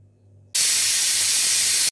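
A pressure cooker cooking moong dal khichdi lets out one loud, sharp burst of steady hissing steam that cuts in suddenly and stops abruptly, after a quiet low hum.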